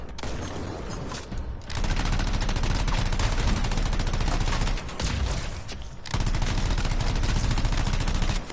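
Rapid automatic gunfire in the game Anthem, a loud dense continuous burst of shots with two brief pauses, close and sustained.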